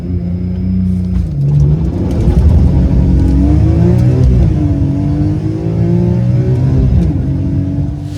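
A BMW E46 M3 with SMG gearbox launches hard from a standstill to 100 km/h, its engine note climbing loudly through rapid gear changes with brief dips between shifts, close and continuous with no talk.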